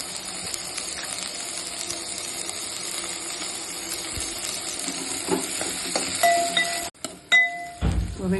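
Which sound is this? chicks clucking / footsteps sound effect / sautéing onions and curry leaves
sautéing onions and curry leaves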